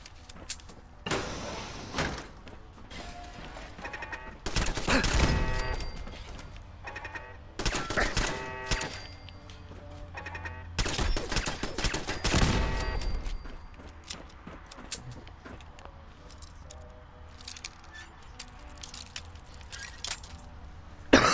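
Pistol gunfire in Fallout 4, heard as several sharp broadband shots in irregular bursts with gaps between them, loud and close against a low game background.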